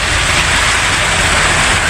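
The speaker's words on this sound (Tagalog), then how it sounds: "napakalakas ng ulan at saka hangin" Heavy rain and strong wind during a storm, a dense, steady broadband roar that stays loud and unbroken throughout, with no talk.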